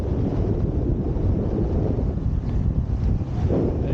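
Strong wind buffets the microphone of someone wing foiling on open water, a loud, close, steady roar with gusty surges and a low rumble of water underneath.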